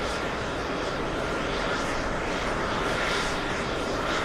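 A Boeing 777 airliner on short final approach at Los Angeles produces a steady, broad engine roar that holds level throughout, a dense continuous rumble with no breaks.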